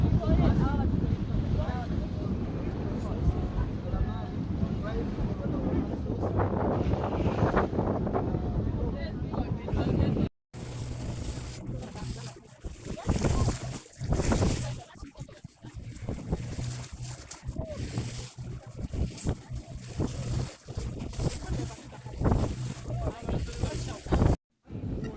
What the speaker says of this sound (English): it was now time for the long boat ride